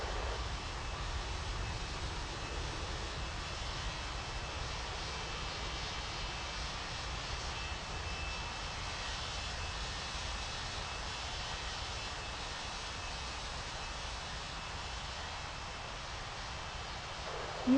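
An airliner takes off at Washington airport in the World of Airports game, giving a steady, loud engine roar with broadband rush that holds evenly throughout, with no voices.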